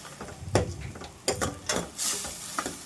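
A spoon scrapes and stirs battani peas curry with turmeric, chili powder and salt in a hot pan, making irregular clattering strokes over a soft, continuous sizzle.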